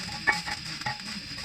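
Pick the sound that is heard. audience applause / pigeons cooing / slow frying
slow frying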